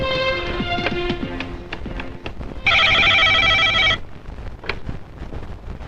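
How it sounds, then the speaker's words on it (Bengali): A telephone rings in a single loud electronic burst of about a second, preceded and followed by quieter background sounds and faint voices. "এই সৈয়দ আলী খাঁরে ফোন লাগা।"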